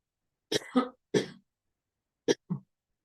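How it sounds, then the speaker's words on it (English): A few sharp coughs, a pair of quick bursts followed by another, then a short pause and two more brief coughs, close and loud against silence. "Now, I'm going to cough."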